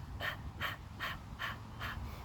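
Rapid, rhythmic bursts of breath of fire yoga breathing through a closed mouth, about five sharp nasal exhales evenly spaced, close and fairly quiet with no talking.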